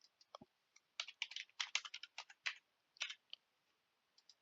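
Someone types on a computer keyboard up close, quick irregular bursts of crisp key clicks with short pauses between, quiet and alone without any voices.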